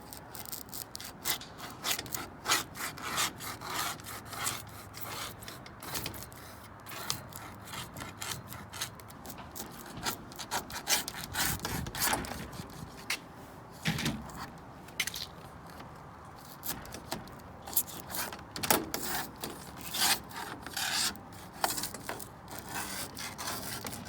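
Painter's tool scraping old tape off a vinyl window frame during glass unit replacement, a steady run of close, gritty scrapes and crackly rubbing strokes with no pauses.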